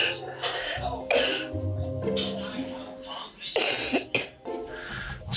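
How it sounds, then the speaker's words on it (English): Repeated harsh coughing fits, several bursts close by, with a voice speaking in between. "She's got a bad cough."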